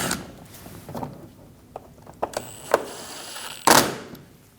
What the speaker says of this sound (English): Install the screws up through the bumper.